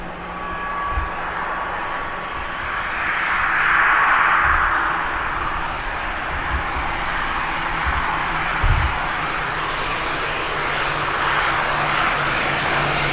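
A propeller airliner arriving from the Isle of Man comes in to land at Manchester Airport, its steady engine drone swelling and lingering at moderate distance with a hazy rumble and no talk.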